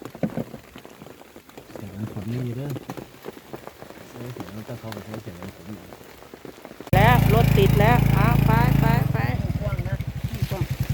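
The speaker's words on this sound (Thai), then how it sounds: "ฝนมันก็ยังรินรินอยู่" Steady patter of light drizzle on a surface with a voice talking over it, followed by louder chatter and a motor-like hum, during mushroom foraging in a forest.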